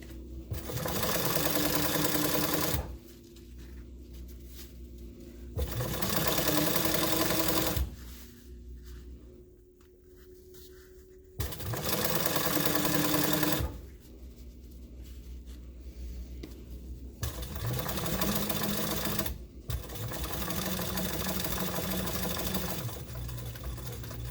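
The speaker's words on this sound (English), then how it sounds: "sew up to the middle of the back band, and I just run a line straight down the middle" A sewing machine runs in several bursts while stitching a back band, each run a fast, steady mechanical whir lasting a few seconds, with quieter pauses between as the fabric is repositioned.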